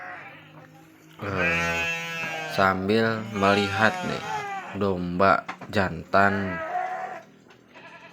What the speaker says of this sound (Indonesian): jadi sekarang ini saya mau membeli domba betinanya